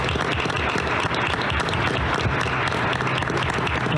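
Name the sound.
audience applause at school board meeting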